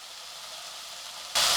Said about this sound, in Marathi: आता याच्यावर आपण या भाज्या ज्या घेतल्या होत्या त्या घालून घेऊया